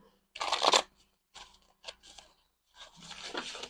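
Cards being shuffled in several quick riffling bursts separated by short pauses, close and crisp, with a longer rustling shuffle at the end.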